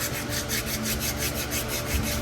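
Body filler on a truck is sanded by hand with 220 grit sandpaper, giving a steady, close scratchy rubbing with quick back-and-forth strokes.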